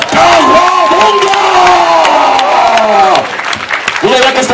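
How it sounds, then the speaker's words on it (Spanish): A studio audience at a Spanish-language game show cheers, whoops and applauds loudly after a contestant answers correctly, with excited shouting voices riding over steady clapping throughout. "¡Un aplauso!"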